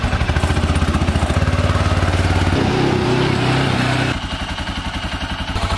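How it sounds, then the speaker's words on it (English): A four-wheeler ATV engine revs and chugs up close as it pulls away, a loud pulsing putter that shifts pitch midway and then eases into a lower throb. "So we're going on the four-wheeler."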